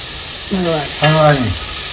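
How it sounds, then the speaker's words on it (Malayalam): Basmati rice for vegetable pulao with coriander and mint leaves sizzles steadily as it is stirred and sautéed in a hot pan, with a brief voice heard over the frying. "അതൊന്ന് വഴറ്റിയെടുക്കണം ബാസ്മതി റൈസ് ആണ്"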